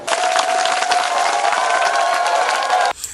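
A crowd applauds the president of the Senate at a school-kit handout in Kasenga, with loud, dense clapping and faint cheers sustained for about three seconds before stopping abruptly.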